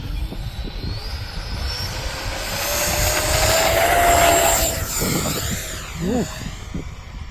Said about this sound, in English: And there I did a no flap takeoff.